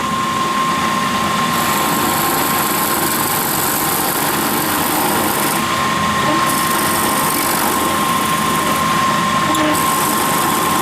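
A steady high-pitched drill whine runs continuously as a drill bores through the last bit of a pen blank, with a constant tone and grinding noise underneath, close and loud with no talking.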